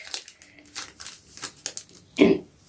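Pokémon cards from a Charizard Brilliant Stars pack are shuffled by hand in brief, papery riffles and slaps, close and moderately quiet, ending on a louder card flick.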